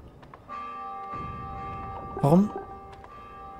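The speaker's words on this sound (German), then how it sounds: "Oh, da läutet jemand die Glocke." A bell rings in the video game The Tomorrow Children, a sustained, ringing tone that lingers across the moment while a voice briefly speaks over it.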